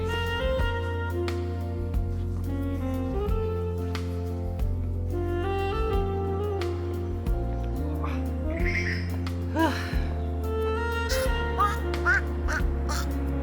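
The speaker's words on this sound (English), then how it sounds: "That's a duck." A duck quacks in repeated bursts, heard over a loud, steady, humming background with tonal noise, outdoors on a trail in Taiwan.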